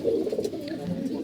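Pigeons cooing nearby in a short burst of soft, throaty, repeated coos, with faint background noise and no talk.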